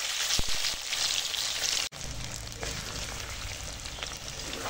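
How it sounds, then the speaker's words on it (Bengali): Steady sizzling hiss of potatoes frying in oil for Bengali aloo dum, a few clinks early on, then a brief dip before the frying carries on at a slightly lower, even level. "আলুগুলো ভেজে নেব।"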